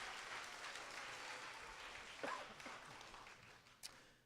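An audience claps at a school spelling bee for the remaining contestants, an even wash of applause that slowly tapers while a brief voice and a sharp knock cut through near the end.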